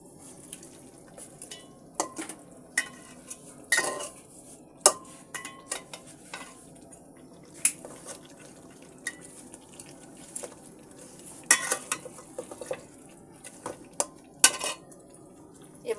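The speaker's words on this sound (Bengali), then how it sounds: "মাছের মাথা দিয়ে এবার আমি মশলাটার সঙ্গে সুন্দর করে কষিয়ে নিব। একা হাতে আসলে নেড়ে দেওয়াটা কষ্টকর।" A fish head is stirred with spices in a pan, a utensil scraping and clinking against the metal in irregular knocks over a faint sizzle of frying.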